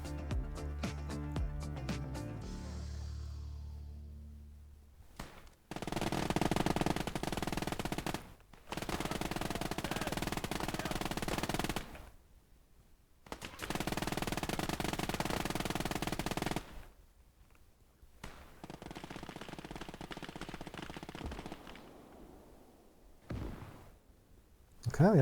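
Several long sustained bursts of machine gun fire in the Gates of Hell war game set in the Hurtgen Forest, rattling continuously for seconds at a time with short silent gaps between, fairly distant and subdued.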